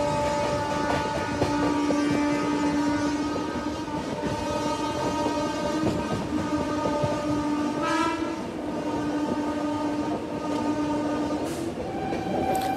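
Mandvi Express running at speed, with a loud steady rumble of the carriages and a long horn blast sounding over it, close and continuous.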